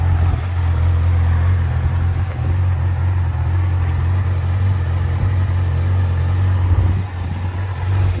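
A 2019 Yamaha YZF-R6 sport motorcycle engine runs at a steady idle, producing a constant low hum close by with no talking.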